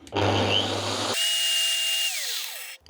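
A Crown CT13677 angle grinder runs at its fourth speed setting, giving a loud, steady high-pitched whine that cuts off abruptly and winds down as it spins to a stop, with no talking.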